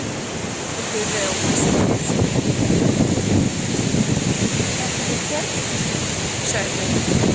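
Ocean waves and surf rolling on a vacation shore, a continuous loud rushing wash with wind buffeting the microphone and occasional surges.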